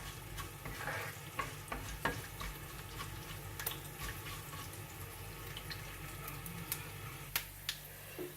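Garlic and cumin sizzle and crackle steadily in hot oil in a pan, with occasional sharp pops and light clinks throughout.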